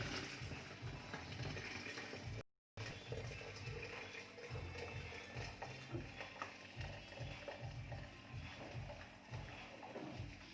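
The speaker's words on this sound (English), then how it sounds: "Then I can pour the hot hibiscus." Hot hibiscus tea poured from close by into a jug holding honey, making a steady, unbroken liquid rush with a brief gap partway through.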